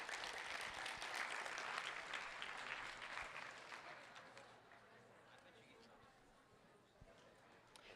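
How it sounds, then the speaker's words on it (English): Applause from an audience at a student forum and awards ceremony, loud at first and gradually thinning to scattered clapping, with some chatter underneath. "Give a round of applause for our forums"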